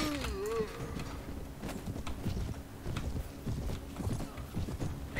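Horses galloping in the Mount & Blade Perisno mod during a night battle, a steady rapid clip-clop of many hooves with battle noise and a faint whinny early on, continuous and fairly loud.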